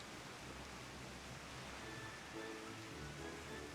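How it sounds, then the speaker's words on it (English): Steady rainfall in a fantasy role-playing game, a soft, even hiss of falling rain that stays constant and fairly faint throughout, with no voices. "And now it's raining."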